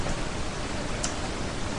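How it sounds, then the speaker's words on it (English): Steady, even rain hiss fills the background in Massachusetts, a soft broadband wash with no distinct drops standing out. "A little bit of rain."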